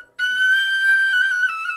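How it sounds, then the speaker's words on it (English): A tin whistle plays a single sustained, clear high note that wavers slightly in pitch for under two seconds, close and alone. "Found the tin whistle"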